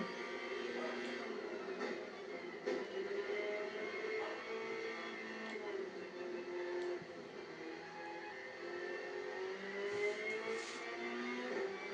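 Race car engine from a Toyota GT1 in a Gran Turismo 7 time trial video game, a steady sustained engine drone with shifting revs throughout, fairly consistent in loudness with no voices.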